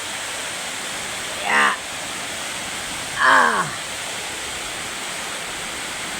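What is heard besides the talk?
heavy rain pouring outside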